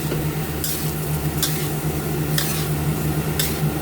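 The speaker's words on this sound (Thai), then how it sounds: "ผัดให้สุกก่อนนะคะ" Vegetables stir-fried in a pan with sugar and soy sauce, a steady close sizzle with rhythmic scraping strokes of the spatula roughly once a second, continuous and fairly loud with no talking.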